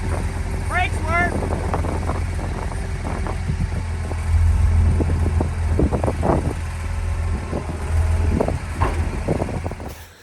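A Kawasaki 95Z3 wheel loader with a cracked exhaust manifold runs nearby, giving a constant deep engine drone broken by scattered clattering bursts, with a voice briefly over it.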